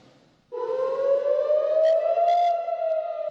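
An air raid warning siren over the Israeli city of Ashkelon starts abruptly and holds a loud, steady wail that rises slightly in pitch, sounding alone without speech.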